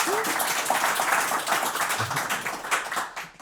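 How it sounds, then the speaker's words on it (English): A crowd at a startup awards ceremony applauding, dense clapping from many hands that swells and then gradually tapers off, with a few voices faintly underneath. "Round of applause."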